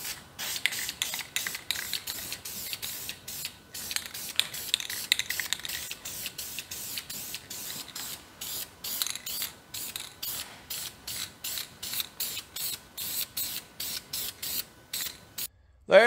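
A spray can lays a heavier second coat of paint on a Chevy 327 engine block, a long series of short, sharp hissing bursts with brief gaps between them, close and fairly loud.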